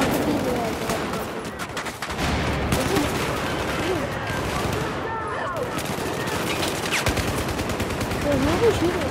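Gunfire in the video game Battlefield 4, dense bursts of automatic rifle fire and scattered shots over a busy battle din, continuous and fairly loud, with a person talking over it at times.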